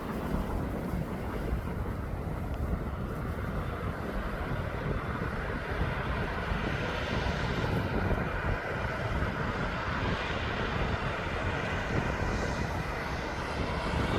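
An aircraft taxiing at East Midlands Airport, moving around a parked plane, its engines giving a steady, continuous roar with broad rumble that stays loud and even throughout, with no talk.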